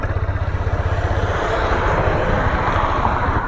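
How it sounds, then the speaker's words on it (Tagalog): A Honda Click 160 scooter on its stock exhaust idles and revs with a steady, close, pulsing engine drone that evens out into a continuous hum. "Click 160 stock exhaust."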